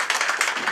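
Audience applause at a Valentine's party, a dense wash of many hands clapping steadily and fairly loud throughout the brief moment, with no pauses.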